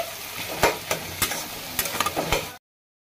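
Ash gourd with bori frying in a pan, stirred with a spoon that scrapes and knocks against the metal in irregular strokes over a steady close sizzle.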